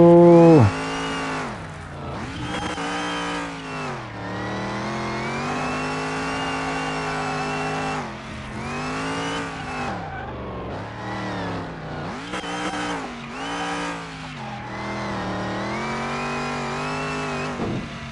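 A supercharged car engine revs hard in repeated bursts, climbing and dropping in pitch with a few brief gaps between runs, loud and close with no talk over it.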